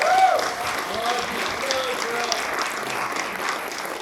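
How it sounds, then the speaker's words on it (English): Wedding reception guests applaud for the bride with a sustained patter of clapping, while a voice and a few cheers rise over it at the start. "Sure, we can clap for Monica."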